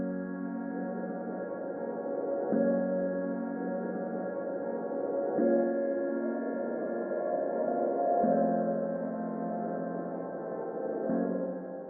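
Soft, sustained 80s-style synth chords from Omnisphere in an FL Studio beat change every few seconds, rich with resonance and reverb and lacking percussion, playing alone at a moderate level.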